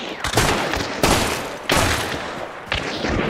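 Rapid bursts of gunfire in the video game Hunt: Showdown come in three or four loud, close volleys, each cracking sharply and fading into a rumbling tail.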